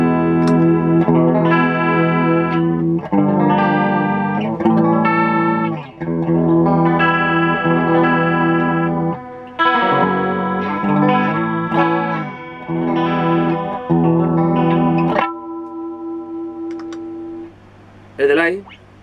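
Electric guitar through a Boss chorus effect pedal plays shimmering chords and single notes with a wide, wavering tone, loud and close, ending on a sustained ringing chord before a brief strum.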